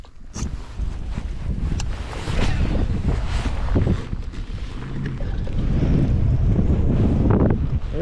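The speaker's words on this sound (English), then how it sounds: "There's those gusts." Gusty wind buffets on Lake Oroville during kayak bass fishing, loud rushing bursts hitting the microphone in surging waves across the whole stretch, with no speech.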